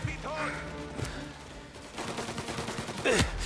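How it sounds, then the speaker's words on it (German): A few sharp bursts of gunfire in the game Mafia: Definitive Edition crack through from above in a side alley, mixed with excited talking voices in German. "Schießen von oben!"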